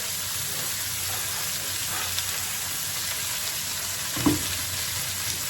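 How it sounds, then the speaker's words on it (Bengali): Potatoes and vegetable bhaji frying in oil with a cumin tempering, a steady hiss of sizzling held at an even level, with one short knock of a utensil late on and no voices. "প্রথমে দিয়ে দিচ্ছি আলু আর ভাজি"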